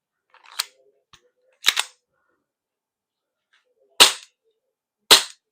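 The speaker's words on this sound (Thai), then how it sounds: "อ่านี้มีแก๊สอยู่เราอยากยิงต่อแล้วก็ ใส่ลูก ใส่สปีดโรเดอร์ใส่ลูกเข้าไป" Four sharp, loud cracks from a KJ Works CZ Shadow 2 gas BB pistol ring out close by, unevenly spaced, with faint clicks of handling between the shots.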